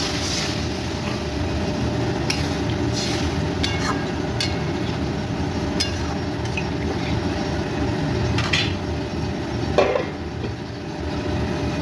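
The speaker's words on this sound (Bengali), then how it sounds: "এবার দিয়ে দেবো জল।" Water poured into a golda prawn curry after the prawns are fried in spices: a steady, close liquid rush and sizzle running under a busy kitchen background, with no talk.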